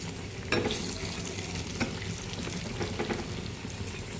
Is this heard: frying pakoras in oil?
yes